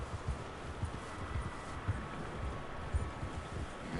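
A horse in Red Dead Redemption 2 plods along, its hooves clopping in a steady, soft, regular rhythm over a faint breezy background, with no voices.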